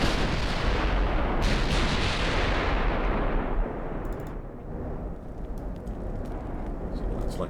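Heavy battleship gun salvos boom in the naval game Ultimate Admiral: Dreadnoughts, a loud sustained rumble of firing and explosions that drops in intensity midway and rolls on more distantly.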